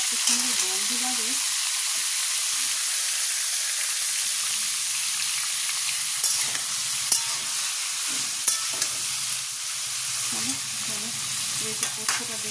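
Nigella (black cumin) seeds fry in hot oil with a steady, dense sizzle and crackle throughout, occasional stirring scrapes and a few faint voices in the background.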